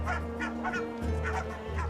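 Barnacle geese, Arctic cliff-nesting birds, give a series of loud, close, repeated honking calls in a steady rhythm with no talking.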